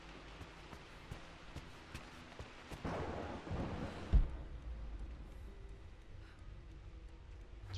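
Steady rain pattering in Rise of the Tomb Raider, with a swelling roll of thunder midway that peaks in a deep low boom, then drops back to quiet, even rainfall.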